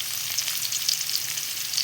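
Onion and garlic frying in a pan, a steady close-up sizzle with bright crackling throughout and no talking.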